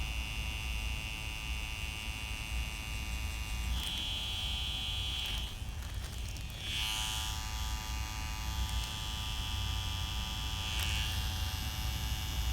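A Xion tattoo machine buzzes steadily while tattooing with straight black ink and a little needle hanging out, a constant close electric hum with brief changes in pitch as the needle works, no talking.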